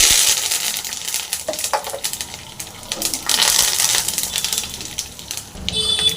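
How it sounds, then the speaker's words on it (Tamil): Mustard seeds crackle and splutter in hot oil on a gas stove while dry fish fry is cooked, a dense, continuous sizzle with sharp pops throughout, close and fairly loud with no talking. "எண்ணெய் சூடாகிடுச்சு கடுகு போடலாம் அது நல்லா பொரியும்"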